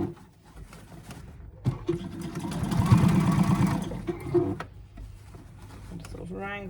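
A sewing machine stitching a bag's lining fabric, a steady humming whir that builds for a couple of seconds between pauses, with someone talking quietly around it.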